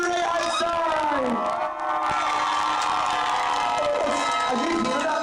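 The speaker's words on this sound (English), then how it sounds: "Why are you guys booing so much?" A loud, continuous crowd roar fills the space at a drag show afterparty, the audience booing and shouting together at close range, with voices layered throughout and only a brief dip in the din.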